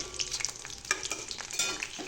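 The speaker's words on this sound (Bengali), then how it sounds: "তার মধ্যে রসুনগুলোও দিয়ে দিচ্ছি, দিয়ে এবার একটু লাল লাল করে" Garlic cloves frying in hot oil in a pan with bay leaf, a close steady sizzle broken by spatula stirring scrapes and small crackles.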